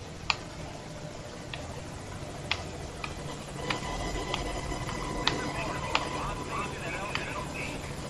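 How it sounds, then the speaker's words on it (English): A helicopter from the game Metal Gear Solid 5: Ground Zeroes approaches with a steady rotor drone that grows slightly louder, broken by sharp game clicks and distant pops. "Come on, helicopter, come on."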